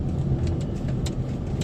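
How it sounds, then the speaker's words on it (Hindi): Road traffic in Karachi, heard from inside a moving car, gives a steady low engine rumble and tyre roar, with brief passing whooshes from nearby vehicles. "अभी ट्रैफिक है, थोड़ा सा एहतियात लाजमी करनी है यहाँ पर।"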